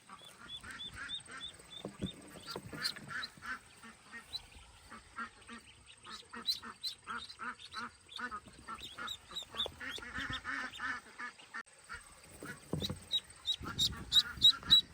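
Many small ducks quack and peep continuously in quick, overlapping bursts, a busy chorus of fowl calls at moderate volume.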